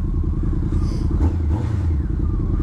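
Honda CBR1100 Blackbird motorcycle engine running nearby, a deep, loud, steady rumble with a slight rise in pitch partway through.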